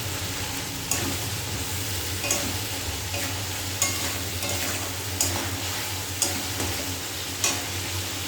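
Spice paste frying in oil crackles with a constant close sizzle, punctuated by regular scraping stirs roughly every second or so.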